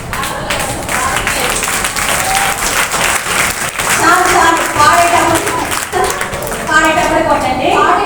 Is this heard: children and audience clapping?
yes